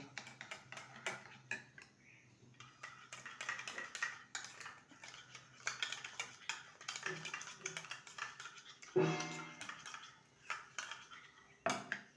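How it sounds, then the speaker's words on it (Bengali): A spoon mixes sour yogurt with sugar and black salt in a bowl, making quiet, irregular clinks and scrapes against the bowl. A voice talks intermittently over the sounds. "ওয়ান স্পুন চিনি আর দিয়ে দেবো সামান্য বিট লবণ ভালো করে মিশিয়ে নেব"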